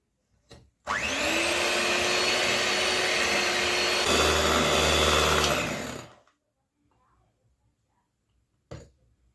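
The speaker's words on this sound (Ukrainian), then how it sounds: "Чим буде потужніший е, блендер, тим буде краще і швидше взбиватися." An electric blender whipping eggs with sugar for a chocolate sponge cake runs loudly and steadily for about five seconds with a high whirring drone, then cuts off, leaving near silence.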